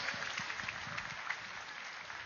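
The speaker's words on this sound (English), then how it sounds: "So another round of applause for the entire team of Pyramid Valley and Soulness." Moderate applause from an audience, a steady patter of many hands clapping at a distance, fairly quiet and even throughout.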